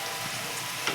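Rice sizzling in a hot pan, a continuous bright hiss with faint crackles, close and even throughout with no one talking.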